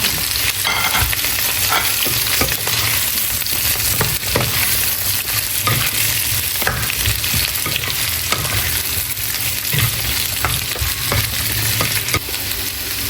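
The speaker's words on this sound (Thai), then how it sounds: "หวานแล้วก็ หอมหัวใหญ่นะคะ ลงไปผัดเลยค่ะ" Onions stir-frying in a hot pan for a cashew chicken dish, a steady loud sizzle with scraping and stirring sounds throughout, no talking.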